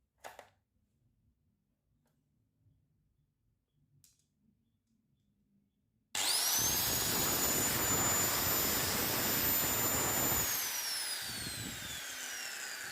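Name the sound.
electric angle grinder running after repair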